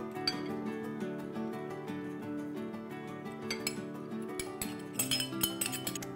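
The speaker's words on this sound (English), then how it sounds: "I'm also going to whisk in 1/2 cup of freshly grated Parmesan cheese" Whisk clinking against a bowl while mayonnaise and freshly grated Parmesan cheese are mixed together, with steady close metallic chinks and taps running throughout and no talk.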